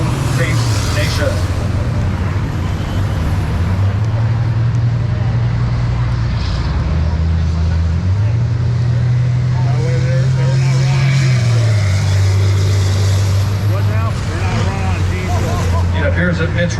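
School buses racing around Cedar Lake Speedway, including a black 2020 bus, their engines droning loud and steady with rising and falling pitch as they pass, under continuous announcer commentary over the track.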